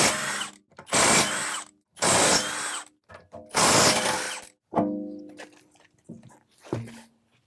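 A power tool spins off the wheel lug nuts on a VW MK5 GTI in four loud close bursts, followed by softer rattling and clinks as the nuts come free.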